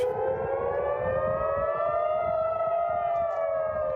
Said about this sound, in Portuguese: Sirenes tocaram em Jerusalém e Tel Aviv.